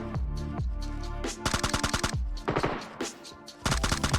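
Gunfire in the mobile game PUBG Mobile: loud, rapid bursts of automatic shots in several strings, with short pauses between volleys and a steady game background underneath.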